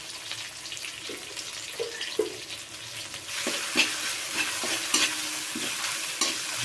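Tomato and ginger sautéing in a pan for a hilsa fish head curry, with a soft sizzle and scraping stirs that grow louder and more frying-heavy in the second half, close up and with no talk.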